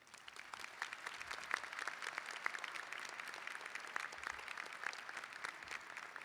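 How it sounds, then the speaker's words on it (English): Audience at a university commencement ceremony applauds steadily, a dense wash of clapping from a large crowd with a few sharper individual claps standing out, sustained at moderate level throughout. "Let's please give them applause."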